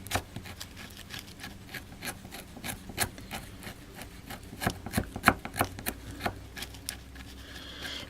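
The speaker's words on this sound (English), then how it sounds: "so I better hurry up and scrape off what I can" Acetone-softened acrylic nails being scraped off fingernails, a close, soft, irregular rasping with repeated short scratchy strokes and small clicks, no talking.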